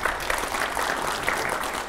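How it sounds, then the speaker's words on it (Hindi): Loud, sustained applause from an audience at a televised interview event, a thick, even wash of clapping hands that holds at a constant level for the whole moment. "ये हमारा जोरदार तालियां हो जाए पहले।"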